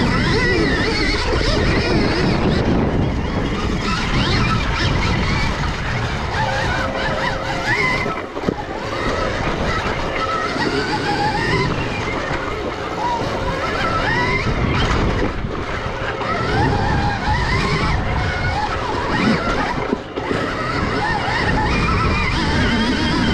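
A Stark Varg electric dirt bike climbs a hillside trail under throttle. Its motor whine is loud and sustained, and heavy wind buffeting and rough terrain noise run through the ride.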